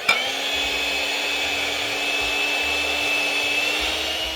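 Electric mixer whisking cake batter for a berry Chantilly cake, a steady motor whine running continuously and fairly close, with no talk.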